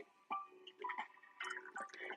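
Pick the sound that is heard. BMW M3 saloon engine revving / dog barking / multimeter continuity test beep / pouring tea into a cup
pouring tea into a cup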